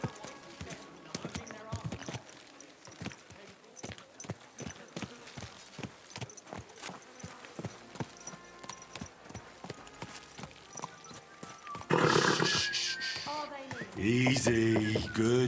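Steady clip-clop of horse hooves from the video game Kingdom Come: Deliverance II, in an even trotting rhythm, close and distinct, with a burst of louder clattering and noise near the end.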